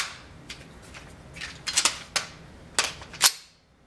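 Magazine pushed hard into an ARP 9 airsoft gun, giving a series of sharp plastic clicks and scrapes that grow louder and end in one crisp snap, close up with no speech.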